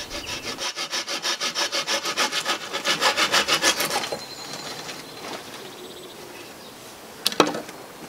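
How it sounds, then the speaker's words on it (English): A hand saw cutting through a wooden stick outdoors, close and rhythmic, with steady back-and-forth strokes that speed up slightly before stopping, followed by quieter handling and a brief sharp knock near the end. "I should have sawed it over there and collected all the shavings."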